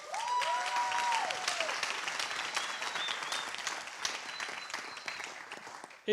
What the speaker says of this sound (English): So just a round of applause, please, again.